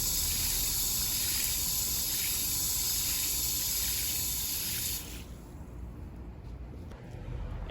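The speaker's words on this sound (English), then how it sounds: "just give it a generous amount of water" A steady hiss of water pours and trickles close by for about five seconds into a bell pepper plant in a 5-gallon bucket, then stops, leaving faint drips and quiet background.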